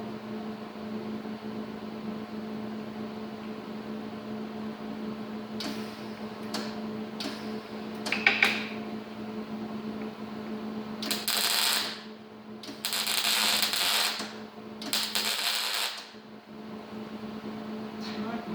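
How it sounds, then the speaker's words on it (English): Welding a nail into a hole in scrap metal: a few short crackling stick-outs, then longer sizzling, buzzing arc bursts in several stretches over a steady low electrical hum. "I'm gonna try and weld this thing in"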